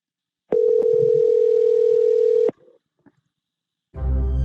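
A telephone dial tone sounds loud and steady for about two seconds while a call is placed to a scammer. It cuts to a short blip and near silence, then a burst of louder broadband noise arrives at the end.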